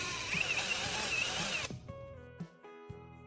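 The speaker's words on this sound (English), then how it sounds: "I'm taking one of the batteries and securing it into my drill" A power drill spins a 1.5V battery, whining loudly and steadily before cutting off abruptly, followed by a few faint clicks and the quiet ringing of the tool winding down.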